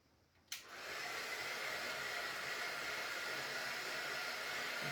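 A hair dryer switches on with a sharp click and then blows a steady, close, even hiss without pause, drying gold paint on a Christmas craft project before a top coat is applied.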